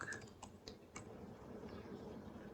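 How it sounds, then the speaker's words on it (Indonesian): Fingers tap out a short command on a computer keyboard, a quick run of faint, close clicks and key presses in a quiet room. "kemudian kita ketik di sini ipconfig"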